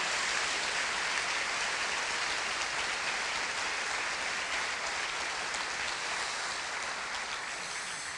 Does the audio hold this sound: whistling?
no